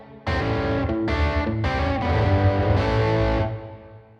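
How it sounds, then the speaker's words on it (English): Someone plays a distorted electric guitar riff slowly, a few heavy sustained chords and notes ringing out with thick overdriven tone and fading at the end. "So if I play the whole riff slow, it sounds like this."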